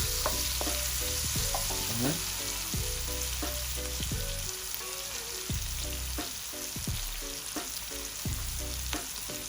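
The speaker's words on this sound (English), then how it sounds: "I'm gonna add my garlic. We have a little flavor bubble out of it." Garlic sizzles and bubbles in a pan while the base of a coconut steamed butter fish is made, giving a steady crackling fry with regular stirring scrapes, close and without speech.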